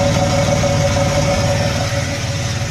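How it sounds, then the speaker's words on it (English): A 1992 Oldsmobile Toronado Trofeo idles steadily through its repaired exhaust, a close, even rumble with a constant whine on top, likely from the leveling-system compressor, and no voices. "So this is what the exhaust sounds like now."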